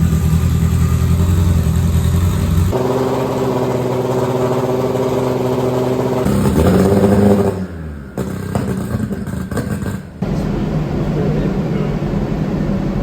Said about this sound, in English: we can get it to idle and we can start getting it onto the dyno